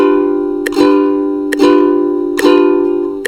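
Ukulele chord strummed in even pulses, three crisp strums roughly a second apart, each ringing on with sustained bright tones between, close and clear with no talking.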